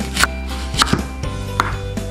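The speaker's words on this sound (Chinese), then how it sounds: "首先我哋將洋葱切粒" An onion being diced with a knife on a cutting board: sharp, distinct chops at an uneven pace, close and clear, with no speech.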